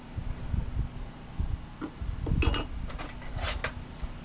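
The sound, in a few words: prying bolt out of a 1972 Schwinn Varsity bicycle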